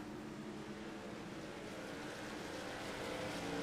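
Race truck engines roar in the iRacing NASTRUCKS dirt event at Bristol, a dense, continuous mechanical drone that holds steady and swells slightly louder toward the end, with no voices over it.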